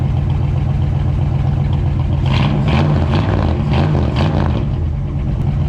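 A 1965 Ford Fairlane 500 engine runs with a newly fitted carburetor. It gives a loud, steady close-up rumble that rises through several quick revs in the middle, then settles back, with no voices.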